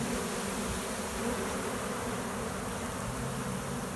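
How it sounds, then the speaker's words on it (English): Honey bees fanning at a swarm give a steady, dense insect buzz that holds evenly throughout, a close, continuous hum with no talk. "They are fanning pretty good."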